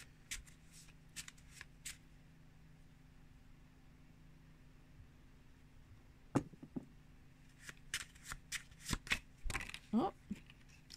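Oracle cards for manifestation are shuffled by hand in soft, quiet riffling bursts, sparse at first and growing busier and louder toward the end, over a faint steady background hum.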